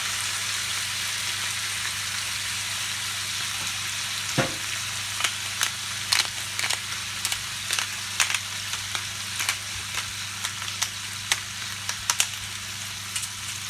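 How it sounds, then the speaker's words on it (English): Chicken fries in oil in a hot frying pan, giving a steady close sizzle with scattered pops and crackles and an occasional scrape of stirring. "the first step is to put our chicken into a hot frying pan with oil in it"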